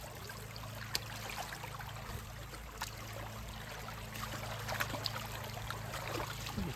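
Shallow stream water several inches deep flows over uneven rocks at a lake overflow trench, a continuous broadband rush and trickle with small splashes, steady and fairly close.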